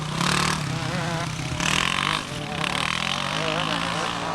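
A Kawasaki 250 enduro motorcycle at a vintage British enduro championship in Dyfi, its engine droning and revving steadily, with a commentator talking over it throughout.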